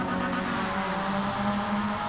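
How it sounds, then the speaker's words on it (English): Race car engine droning steadily at high revs during a close lap-after-lap battle at a HIP Motorsports event, a continuous mid-distance roar with no talk. "can hear the revs come up big time"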